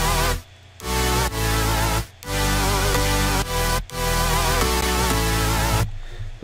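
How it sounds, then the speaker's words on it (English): Dry synth stab samples from the Vengeance library for a bass house track, loud chord hits in short rhythmic bursts separated by abrupt silent gaps, with no reverb tail. "So if you listen to the stabs without the reverb,"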